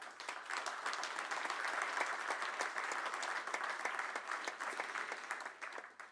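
A crowd applauds for Pope Francis at a gathering, a dense, even roar of many hands clapping that holds steady throughout, slightly distant, then tapers at the end.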